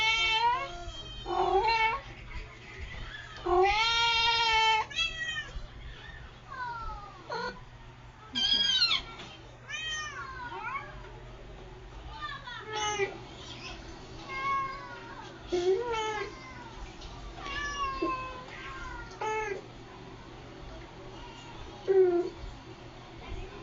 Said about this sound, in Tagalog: Tingnan mo, mga guys, tira yung alaga namin pusa, oh.